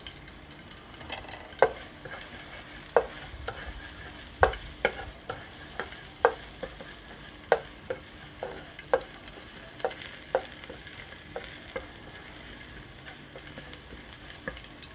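Garlic fries in a pan over medium gas heat, a soft sizzle beneath regular crisp clicks of a spatula tapping and scraping at an even rhythm.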